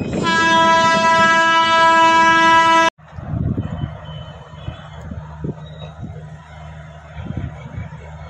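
A MEMU passenger train, number 66560 on the Doddaballapur to Anantapur route, sounds a loud sustained horn for about three seconds, then rumbles along the rails with rhythmic clacks and low, steady rolling noise.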